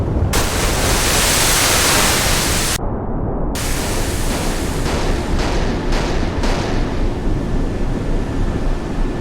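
Salvos of Grad rockets launch in a naval combat video game as fast attack craft fight a Kirov battlecruiser and an Iowa battleship, a loud, sustained hissing roar that breaks off briefly before surging again.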